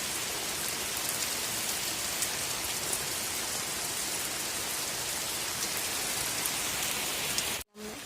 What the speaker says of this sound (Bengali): বাইরে দেখো প্রচুর পরিমাণে বৃষ্টি যত সম্ভব হচ্ছে তত প্রচুর বৃষ্টি হচ্ছে